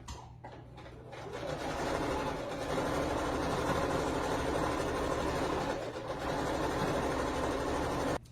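A sewing machine runs steadily while stitching a pillow, a close continuous mechanical whir with fast rhythmic clatter that starts after a moment and carries on unbroken, with no talk over it.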